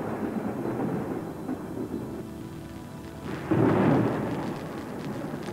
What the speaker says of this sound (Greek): Όχι, δεν μ' αρέσουν οι κεραυνοί.